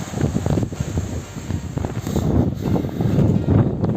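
Steady wind by a seaside rock at Foça buffeting the microphone, a loud continuous rumble with gusting swells and rustling, no voices.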